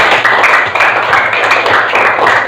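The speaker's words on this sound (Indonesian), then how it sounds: "Tepuk tangan dulu." Students clapping together in a classroom after a role-play activity, a loud, close, continuous burst of hand claps with a fairly even rhythm throughout.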